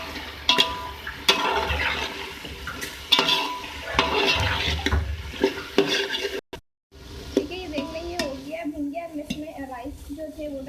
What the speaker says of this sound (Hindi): अब इसके अंदर हम डालेंगे चावल। तो आप पहले भून लें।